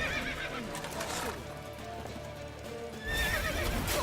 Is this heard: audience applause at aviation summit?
no